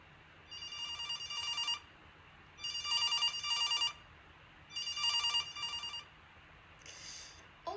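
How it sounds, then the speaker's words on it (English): A telephone bell rings in three evenly spaced bursts, each about a second long, with a fainter, shorter fourth ring at the end, heard alone against a quiet background. "the pure sound of a telephone"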